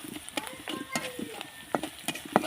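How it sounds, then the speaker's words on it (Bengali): Spices being stirred into onions in a pan, soft scraping strokes in an irregular rhythm over a faint sizzle, close and quiet. "এখন আমি এগুলোকে ভালো করে একটু পেঁয়াজের সাথে মিশিয়ে নেব"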